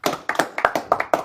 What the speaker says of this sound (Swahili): Hivyo ndio mnanipigianga makofi